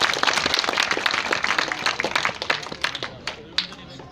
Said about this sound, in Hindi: मेरा निवेदन रहेगा, जोरदार तालियों से सभी स्वागत करें।